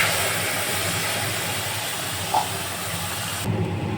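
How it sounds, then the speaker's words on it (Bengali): Whole garlic cloves, black cumin (nigella), dried red chillies and a ground spice paste sizzle in hot oil, a loud steady hiss that stops abruptly near the end. "ওই তেলের মধ্যেই আমি ফোড়নে দেবো গোটা রসুন, কালো জিরে, শুকনো লঙ্কা"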